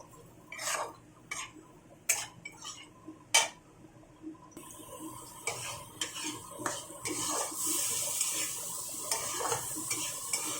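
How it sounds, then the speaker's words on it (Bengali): Washed dal being stirred in a pot for a soybean dal, beginning with a few sharp spoon knocks and scrapes against metal, then a soft building sizzle mixed with continued stirring, close and without speech. "ডালটা একটু নাড়াচাড়া করে নেব।"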